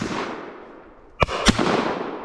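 Two sharp shotgun blasts roughly a quarter second apart ring out during a duck shoot in England, loud and close against a steady outdoor background hiss.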